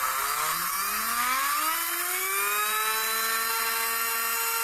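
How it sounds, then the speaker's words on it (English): A small motor in a 32-line mechanical TV camera and monitor spins up, its whine rising steadily in pitch and then holding a steady tone over a loud constant hiss. "So powered up, the motor is spinning"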